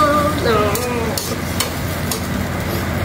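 Food stirred and fried in a home kitchen pan, with a steady sizzle under scraping utensil strokes and a few sharp clinks, loud and close throughout.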